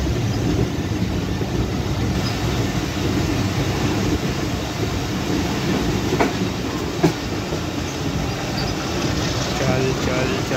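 The 47 Up Rehman Baba Express train halting at Darul Ehsan station, a steady loud rumble of rolling stock with faint clicks and one sharp clunk, a voice speaking briefly over it.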